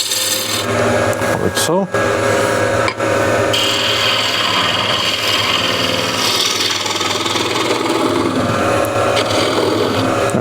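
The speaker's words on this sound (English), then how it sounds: "I'm using a ball gouge." Ball gouge flattening a wooden cross-grain box, steady close scraping and rasping strokes in a dense, continuous rhythm, with a brief spoken aside.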